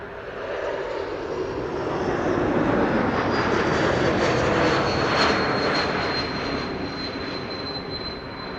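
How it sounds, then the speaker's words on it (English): A KLM Embraer E2 195 jet arrives at Amsterdam Schiphol on a sunny day, its engine roar swelling as it nears, peaking mid-pass with a thin high whine, then easing slightly as it moves on. "E2 Embraer 195 arriving from Zurich, KLM flight 1920"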